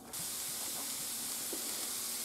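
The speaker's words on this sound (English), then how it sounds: "you can hear this cauliflower sizzling" Diced cauliflower sizzles as it dries out in a pan, a steady close hiss with faint crackles running throughout.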